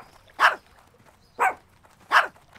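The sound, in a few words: dog barking in video game World of Warcraft Cataclysm Classic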